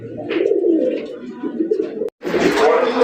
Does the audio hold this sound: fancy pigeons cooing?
yes